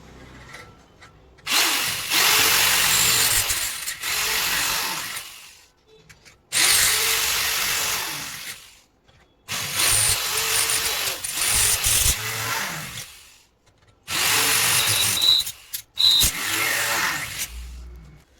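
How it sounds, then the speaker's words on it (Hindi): Power drill boring into a steel percussion instrument in bursts: four or five long, loud whining runs separated by short pauses, no talk over it. "जितना भी ड्रिल मारेंगे वो आराम से मारेंगे, थोड़ा रुक रुक के मारेंगे"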